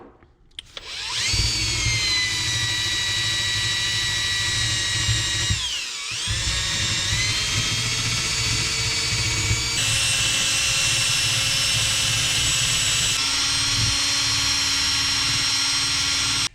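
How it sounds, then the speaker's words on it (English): A spinning wire wheel cleans the engine head of an Arctic Cat 650 H1, producing a steady, loud, high-pitched whine with a brief dip in speed midway, then continuing strongly with no talking. "I'm going to work on cleaning this up with a wire wheel"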